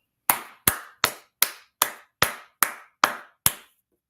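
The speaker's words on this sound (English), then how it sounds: "So everybody, let's clap it up." Ten sharp, evenly spaced claps, each distinct and close, with brief decay and silence between them, like a single pair of hands clapping in steady rhythm rather than a full audience.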